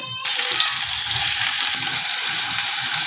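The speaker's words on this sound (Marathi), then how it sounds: "आता आपण हा कांदा गरम तेलामध्ये घालूया" Chopped onion sizzles hard in hot oil for a chutney of dried tiny shrimp, a loud, steady, dense frying crackle that bursts in right after a brief quieter moment at the start and carries on unbroken.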